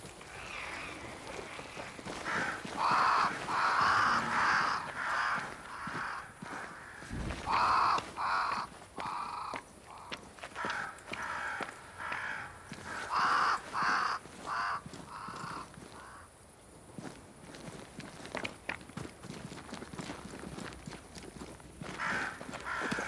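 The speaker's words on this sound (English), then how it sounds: "Crows." Crows caw repeatedly near a great tree in Banishers: Ghosts of New Eden, harsh calls in clustered bursts over a rustling, scuffing background, with no talk.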